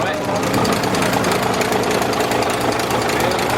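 A Scania 142 truck engine rumbles and knocks steadily throughout, a continuous mechanical drone with a rapid pulsing beat close by.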